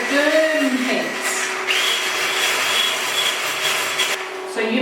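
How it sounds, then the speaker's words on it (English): An electric whisk whips a gluten-free, sugar-free, dairy-free apple fool mixture to firm peaks, a steady continuous motor whir with a high buzzing tone that runs throughout at moderate loudness. "Back to our electric whisk. Whisk it through."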